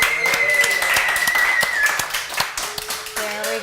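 A small studio crew gives a guest introduction a burst of hand clapping, a few close, uneven claps with scattered cheering voices, then a brief tone over the dwindling claps.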